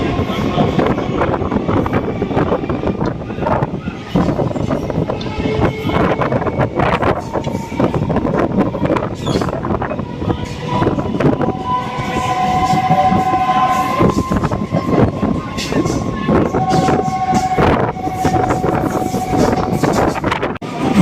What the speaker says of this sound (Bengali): আমাদের ট্রেন এখন বিষ্ণুপ্রিয়া পৌঁছে গেছে।